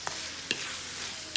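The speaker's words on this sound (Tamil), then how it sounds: "இதே டைமில் வந்து மீனை வந்து நான் பொரிய போட்டேன்" Fish frying in hot oil alongside a seafood shell-out preparation, giving a steady soft sizzle throughout with a few brief scraping clinks of a utensil against the pan.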